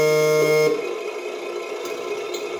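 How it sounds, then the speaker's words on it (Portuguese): A remote-control Mercedes-Benz Atego truck honks through its GT Power sound module: a single, fairly loud, buzzy horn blast of under a second, followed by a quiet electronic hum. "A buzina."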